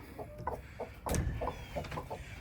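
A flock of about forty backyard hens in a coop in America clucks close by in short, repeated calls, one burst of movement briefly louder, with no talking.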